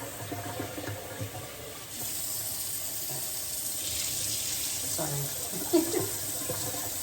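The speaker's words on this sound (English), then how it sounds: "Let me just give it one more rinse" Tap water runs steadily into a sink as oxtail and rice are rinsed in a home kitchen. A continuous hiss and splash carries on throughout, with a few clinks of handling.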